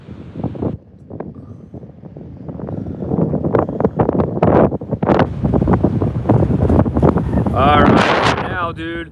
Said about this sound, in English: That wind's blowing now. If you can hear it, oh my gosh.